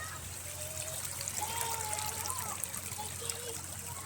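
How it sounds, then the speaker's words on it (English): Water trickles and runs steadily in the background, a continuous soft wash with faint bubbling over a low hum. "you hear running water"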